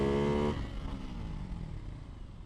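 A Ducati Hypermotard 698 motorcycle on a supermoto track, its engine revving hard and then dropping off into a lower, rougher drone as it rides away. Loud at first, then fading.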